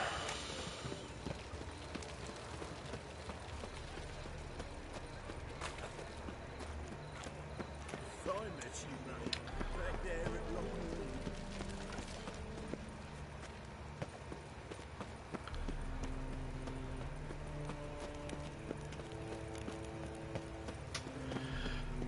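Horse hooves clip-clopping in a steady gallop in The Witcher video game, up close and continuous, with game music playing and a voice speaking over it.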